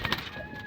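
Racing pigeons kept by a Filipino fancier, giving a brief close coo with soft throaty bursts over a faint background hum.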